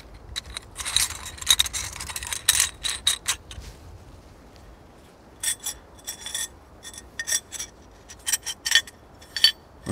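Metal parts of a Max Fuchs bow saw clink and scrape as the handle pieces, blade and nut are fitted together and tightened, in two bursts of short jangling taps with quiet gaps between them.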